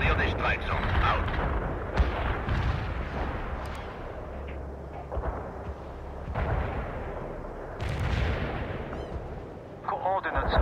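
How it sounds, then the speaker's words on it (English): Artillery barrage in the real-time strategy game World in Conflict: repeated heavy booms and cracking blasts arrive in uneven bursts over a constant rumble, loud and close, with radio-style voices speaking in between. "Order barrage is on the way."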